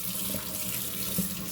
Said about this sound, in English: we're just going to rinse it under water, get rid of all those canning juices